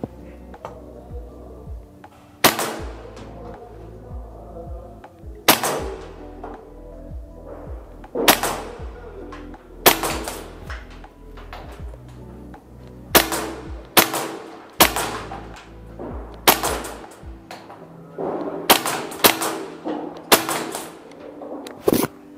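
Umarex HK416 T4E airsoft rifle firing single semi-auto shots: sharp, loud cracks spaced a second or two apart, about a dozen in all, close by with a faint mechanical hum beneath.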